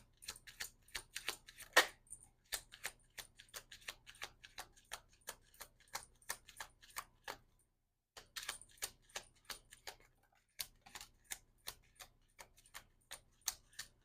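Tarot cards being shuffled by hand, a long run of quick crisp flicks and riffles with two brief pauses, close and fairly quiet, with no voices.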